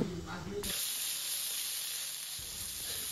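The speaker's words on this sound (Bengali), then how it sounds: "তো দিয়ে কিন্তু মশলাগুলো ভালো মতো কষিয়ে নেব" Turmeric and salt hit hot spices in a pan with a little water, sautéed for a Bengali chicken curry. After a short muffled moment, a sudden bright, steady hiss and sizzle bursts up and carries on loudly to the end.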